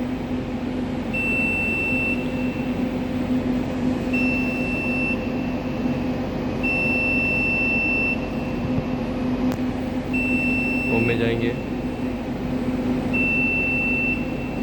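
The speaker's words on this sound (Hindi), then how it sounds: "इसलिए ये अलार्म का जो बज़र है वो बज रहा है" A 60 kVA BPE UPS alarm buzzer beeps with the inverter switched off and the load on bypass, sounding repeated short high tones at a steady interval over a constant electrical hum. A voice briefly speaks midway.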